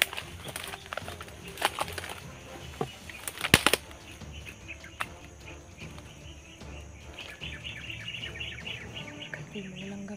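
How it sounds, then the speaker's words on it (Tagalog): Many birds call and flap their wings outdoors, with dense chirping and sharp wing bursts throughout, loudest near the start, and a steady background hum underneath. "Daming ibon."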